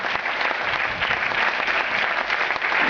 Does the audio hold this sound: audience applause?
yes